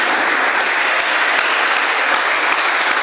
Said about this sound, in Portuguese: dê uma salva de palmas para Jesus com alegria